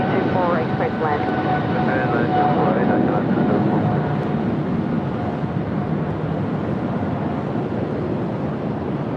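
A Boeing 777 landing on runway 24 right at LAX fills the scene with a steady, loud broadband jet roar that holds without a break, while voices sound faintly underneath.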